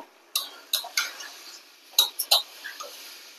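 A spoon clinks and taps against a bowl while mixing ground spices, a handful of short, sharp metallic ticks spaced irregularly, close and clear over quiet.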